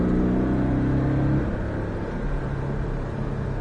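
A Porsche Cayman S accelerating during a driving lesson, a loud, close, steady engine drone whose pitch shifts partway through.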